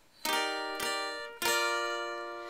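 Three strummed guitar chords ring out one after another, each struck cleanly and left to sustain, played up close with no voices.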